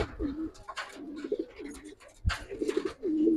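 Silver-coloured Giribaz pigeons coo repeatedly at close range, low rolling phrases recurring through the short stretch with a few brief knocks and rustles between them.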